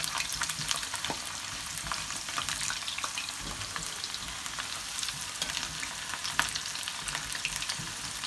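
Green plantain slices fry in hot oil with a steady, dense sizzle and crackle that holds evenly throughout, with no talking.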